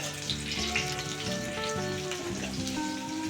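Fish fries in a pan, a dense continuous sizzle and crackle that stays steady and close throughout, with faint clinks underneath and no talking.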